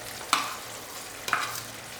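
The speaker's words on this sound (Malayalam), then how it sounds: "100 ഗ്രാം പനീർ ചേർക്കാം നമുക്കിതിലോട്ട്." Homemade paneer goes into a simmering gravy and is stirred, giving two brief scraping, sizzling stirs about a second apart over a quiet background hiss.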